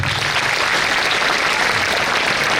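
Loud, dense applause from a crowd of students at a school literary club closing ceremony, steady and sustained throughout with no talking over it.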